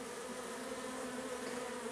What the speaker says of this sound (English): all these other guys are worker bees